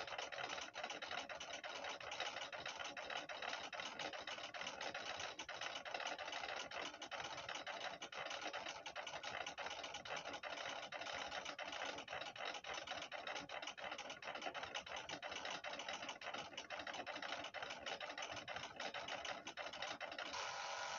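A 1987 pen plotter draws with paper shuttling back and forth, making a continuous, even mechanical whir and buzz, like a small motor running steadily at moderate volume with no pauses.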